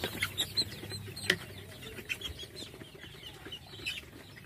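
Chickens, some sick with snot disease, clucking and squawking in a noisy coop, with scattered sharp calls and occasional wing flutters close by.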